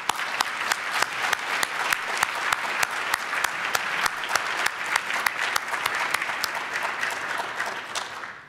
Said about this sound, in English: hopefully you'll join in applauding all of the individuals who have helped make legend a